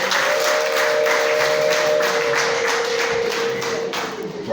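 A church congregation claps through a wedding service for J.Bosco and Chantal, a steady dense wash of applause from a crowd, with a sustained tone running underneath through most of it.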